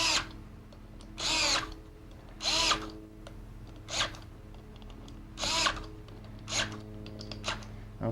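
A power tool drives clutch bolts down in turn, in a series of about six short whirring bursts with brief pauses between them, close and moderately loud over a low steady hum.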